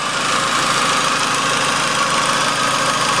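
A car engine idles steadily with a constant, even rumble and faint rattling, close by and uninterrupted.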